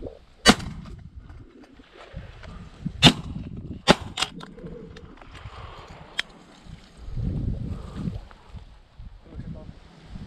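Shotgun shots during a pigeon hunt in Finland: a few sharp, loud reports spaced seconds apart outdoors, with wind noise and the hunters talking quietly between shots.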